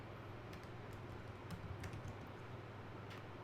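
A mkdir command is typed on a computer keyboard, quiet rapid key clicks tapping along in an uneven rhythm over faint room hiss, with no voice.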